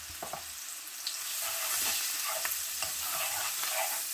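White onions fry in a hot pan with a steady, close sizzle. Soft stirring scrapes and taps break in every second or so, and no one speaks.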